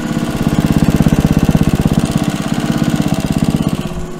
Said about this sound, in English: This is just ticking over.